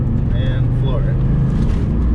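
A 2004 Pontiac GTO with an LS1 V8 and six-speed, floored in third gear up a neighborhood hill, gives a loud, steady, deep engine roar that stays strong and close throughout.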